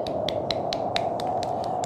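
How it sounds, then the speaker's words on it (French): A small audience at a live event claps for Samira, a faint, steady run of distinct, evenly spaced claps at a brisk tempo with no voices. "On applaudit Samira."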